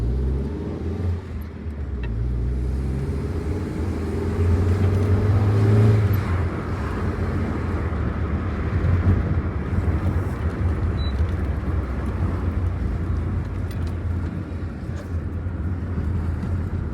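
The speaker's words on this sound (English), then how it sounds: "I'm just gonna take the car for a test drive" A Honda Ballade EK on a test drive after new brake discs and pads were fitted, its engine a steady close rumble with road noise throughout, swelling slightly around the middle with no talk.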